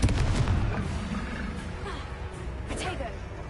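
Fiery Confringo spell blasts from Hogwarts Legacy, a dense rumbling boom with crackling bursts that fill the clip, loud and close, under a shouting voice.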